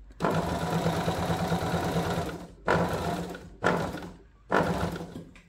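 A sewing machine stitches a blouse or dress seam, running loud and close in one long steady burst, then three shorter runs separated by brief stops.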